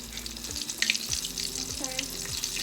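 Pheasant meat sizzling and crackling in a hot pan, with occasional scraping and stirring sounds close by.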